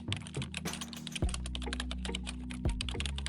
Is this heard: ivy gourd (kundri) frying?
no